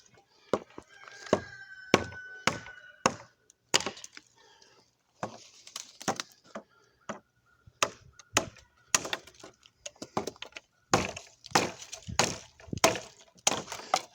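Small wooden stubs snapping off split firewood by hand, a run of sharp dry cracks and thunks close by, some in quick clusters with short gaps between, with no talk over them.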